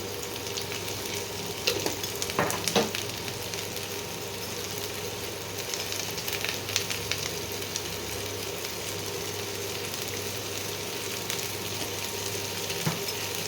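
Steady sizzling of cauliflower frying in hot oil, a dense crackling hiss that runs throughout with a few faint clinks and no talking.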